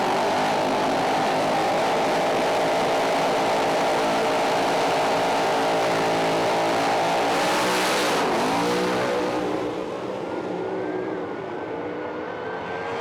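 A pro alcohol funny car makes a drag racing run at Willowbank Raceway, a loud roaring blast that fills the whole range, then drops in pitch and fades as the car passes into the distance.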